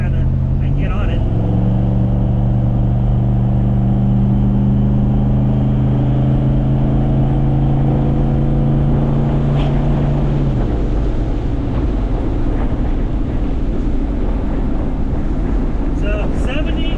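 A Chevy C30 squarebody truck with a 4L80e transmission accelerates, its engine drone rising steadily in pitch and then settling while wind noise rushes over the microphone and someone talks inside the cab.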